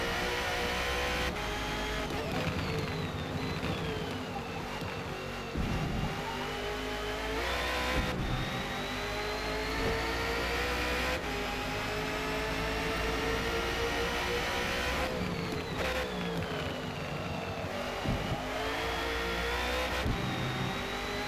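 Race car engine in a Bathurst racing game, revving hard toward the rev limiter with rising pitch sweeps, abrupt gear-change drops and repeated climbs, loud and continuous throughout.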